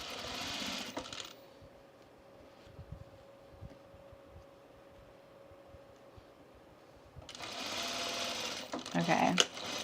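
A sewing machine runs around the perimeter of a dress pocket, a Renee dress pattern. One short burst of stitching comes first, then a quiet pause with faint murmuring, then a longer run of rapid, buzzing stitching to the end.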